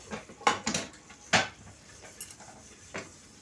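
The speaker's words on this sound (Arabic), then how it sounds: "هنغسل شويه المواعين اللي في الحوض دول" Dishes clinking and knocking in a sink, a few sharp clatters of plates and cutlery at irregular intervals, close by.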